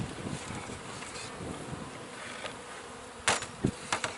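A close swarm of honey bees buzzes continuously over hive frames during Nicot queen rearing, with a few sharp knocks and handling bumps near the end.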